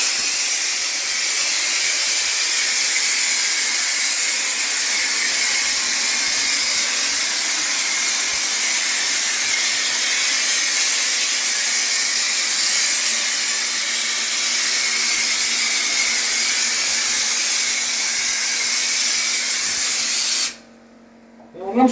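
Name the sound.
compressor-powered sprayer shooting orange peel drywall texture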